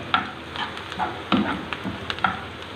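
A spoon stirs eggs frying in a pan for a khagina scramble, producing rhythmic scraping strokes over a gentle, continuous sizzle.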